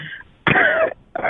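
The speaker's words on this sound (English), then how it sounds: "Yes, I have a little cough." A man's single short, throaty cough, close and fairly loud, followed after a brief pause by the start of another cough or throat-clearing sound.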